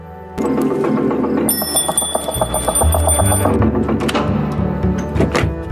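A perimeter alarm bell rings insistently around a house in a forest film scene, a loud continuous metallic ringing over low rumbling music and thuds for several seconds.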